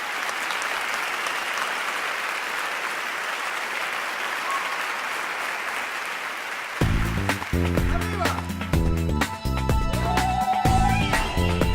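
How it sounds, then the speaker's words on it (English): An audience applauds steadily, a dense wash of clapping, before music with singing abruptly takes over partway through. "Let's give her a warm round of applause."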